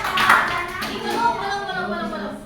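Brief clapping from students in a classroom after a group presentation, a short burst at the start that fades under children's voices and room chatter.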